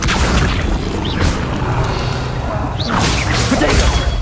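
An Accio summoning spell in the video game Hogwarts Legacy whooshes and whips through busy combat, with a couple of sharp rising swishes and booming impacts over a dense backdrop.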